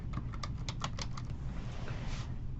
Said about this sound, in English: I'm going to type in average.